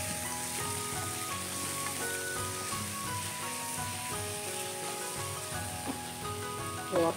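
Large uncut chicken pieces fry in a pan for homemade chicken mushroom soup, giving a steady, close sizzle that runs throughout with faint tonal background underneath.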